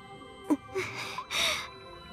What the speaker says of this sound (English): That breathing sounds like someone is in pain.